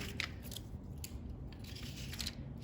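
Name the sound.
scissors trimming paper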